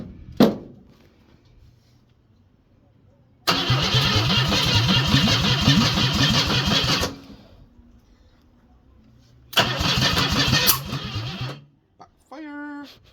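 A Ford Cortina Mk4 Ghia with a 2.3 V6 cranks in two loud, close bursts of several seconds each, the starter churning as the engine briefly fires, with short sounds between.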